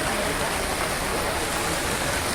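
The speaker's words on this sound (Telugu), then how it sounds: "వర్షం పడతానే ఉంది" Steady, dense rain pours down continuously, a close and loud wash of water on surfaces with no pauses or other sounds standing out.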